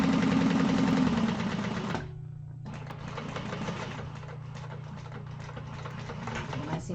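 Sewing machine stitching the panel seam of an Alexandra bag near a zipper tail, a steady rapid whir running loud for two seconds, a brief pause, then resuming steadily to the end.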